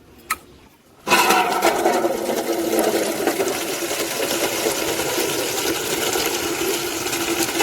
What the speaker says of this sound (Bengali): আমাদের ছাদের এই কল থেকে আমি জলটা নেবো